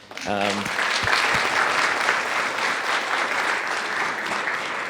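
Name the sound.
audience applauding the panel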